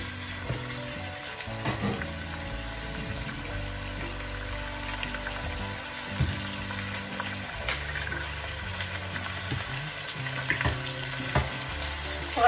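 Pieces of meat fry and sizzle in a pot, a soft crackling hiss with occasional stirring clatter, fairly quiet and steady throughout.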